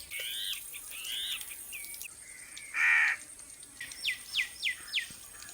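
Crows cawing outdoors in a village while mutton pieces are hung on a rope to sun-dry, a few harsh calls early, one louder close caw midway, then a rapid series of five caws at the end.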